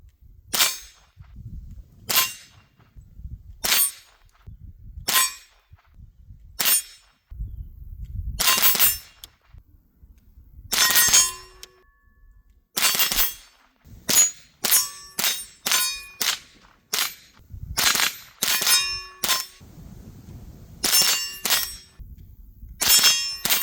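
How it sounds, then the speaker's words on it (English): Smith & Wesson M&P 15-22 training rifle fired at a shooting range: a long string of sharp, metallic-ringing shots, spaced irregularly at first and then coming faster in quick succession, each crisp and close. "Let's do some shooting with this thing."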